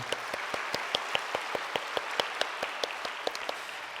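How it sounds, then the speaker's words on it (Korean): Church congregation claps in unison at an evening worship service, a steady, evenly spaced beat of sharp hand claps under a soft wash of scattered applause. "먼저 이 모든 일을 행하신 하나님께 우리 영광의 박수 같이 올리겠습니다"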